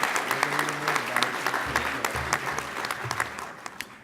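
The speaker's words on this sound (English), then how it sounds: "Give her a round of applause." A healthcare conference audience gives a warm round of applause, a fairly dense patter of many hands clapping at moderate distance, gradually tapering over about four seconds with low hum beneath.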